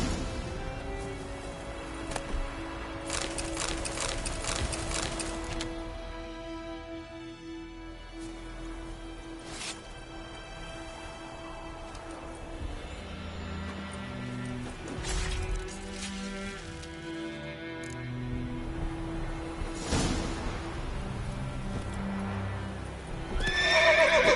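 Horses in The Witcher 3 neigh and whinny repeatedly with clip-clopping hooves and game ambience, loud and close, with no talking.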